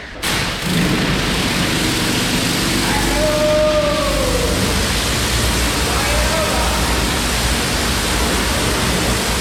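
A hot water pressure washer sprays steam in a cellar, a steady loud hissing roar starting abruptly and running unbroken to the end, close by.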